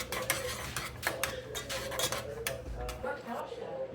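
A utensil stirs seasoning in a bowl for a grilled cheese, giving a quick run of light metallic clinks and scrapes, close and fairly quiet.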